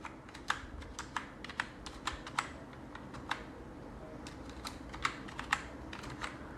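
Quick, irregular taps on a computer keyboard, close and fairly quiet, scattered in short bursts with brief pauses over a low background hiss.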